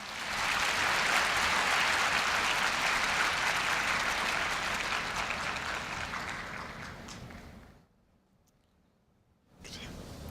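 Loud, dense applause from a large audience at a university freshman entrance ceremony fills most of the stretch, then drops away to near silence before a fresh burst starts up at the end.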